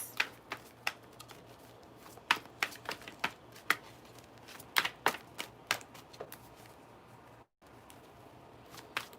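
Crisp irregular clicks and flicks of tarot cards being shuffled and handled, close by, with a brief pause near the end.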